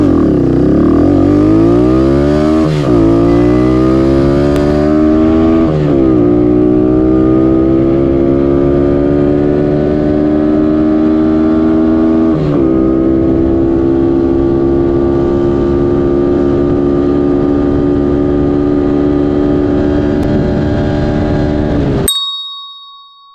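A Honda Fury 125 motorcycle upgraded to 132cc accelerates hard along a road, its loud engine revving up through several gear changes with rising whine, then settling into a steady drone before cutting out near the end.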